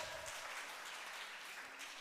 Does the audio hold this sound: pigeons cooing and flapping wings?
no